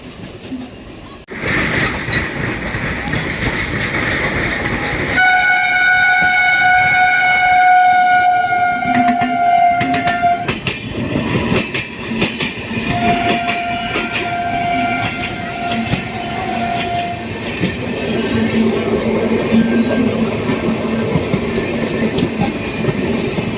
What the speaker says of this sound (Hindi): कुछ ही देर में बगल वाली नई दिल्ली वाली लाइन से आ रही है पूर्वा एक्सप्रेस जो कि हमें ओवरटेक करने वाली है।